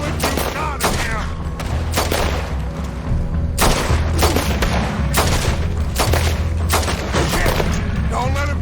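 Gunfire in Red Dead Redemption 2: dense, loud volleys of overlapping shots from several guns, with heavier booming blasts mixed in, firing almost continuously.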